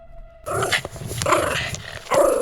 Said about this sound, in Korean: 갑자기 막 짖기 시작했대요